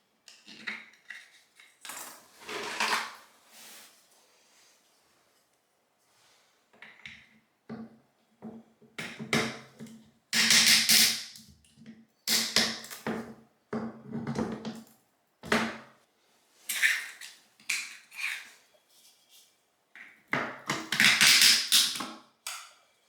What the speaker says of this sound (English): I'm gonna go ahead and put some of these wedges in.